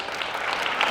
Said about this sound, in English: Would y'all please give them a round of applause?